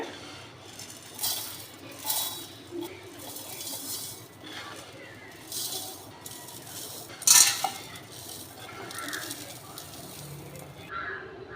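Roasted urad dal and ragi go into a mixer jar with intermittent clinks, rattles and scrapes of spoon and containers, including one sharp metallic clatter midway, over faint room noise.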